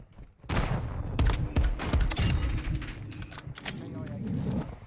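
Rapid pistol gunfire in the video game Modern Warfare 2, a burst of close, sharp shots in quick succession followed by scattered further shots and clatter, with no talking.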